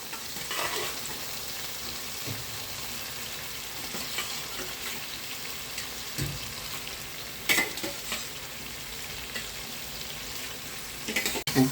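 Chicken liver frying in separating oil with masala sizzles continuously while a spoon stirs and scrapes the pan, with occasional sharper clatters and no talking.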